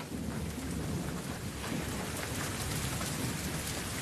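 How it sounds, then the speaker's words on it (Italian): Steady heavy rain pours down outdoors with rolling thunder blended into a dense, constant roar that holds evenly throughout, no voices. "Senti come piove."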